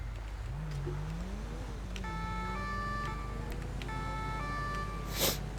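A synthetic ambulance siren in the LSPDFR police mod for Grand Theft Auto V wails in rising and falling tones over a steady low engine drone, with a short bright burst near the end.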